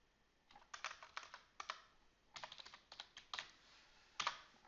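Keys tap on a computer keyboard in short, quick bursts separated by brief pauses. The typing is close, soft and clear against a quiet background, with no voices.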